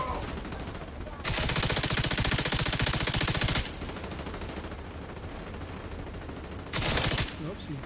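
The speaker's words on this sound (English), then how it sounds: "Someone else is shooting me." Video game gunfire aimed at the player, heard as two rapid automatic bursts with a dense rattling roar, the first lasting a few seconds and the second shorter, over a quieter background of game sound.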